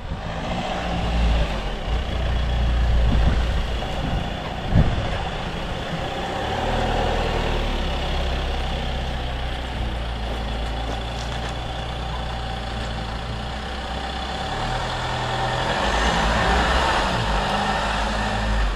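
A car towing a Knaus caravan pulls away and drives off, a steady low engine rumble and road noise that stays loud and continuous throughout, with no talk.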